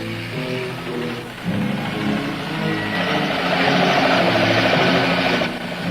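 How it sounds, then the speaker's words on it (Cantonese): An emergency observation helicopter flies through torrential rain over Hong Kong. A dense, steady rotor and engine drone blends with a hiss of heavy rain, and the sound swells louder toward the end. No one speaks. "當本片攝影員跟隨負責緊急觀察工作嘅直升機出發嘅時候，香港上空仍然落緊傾盆大雨"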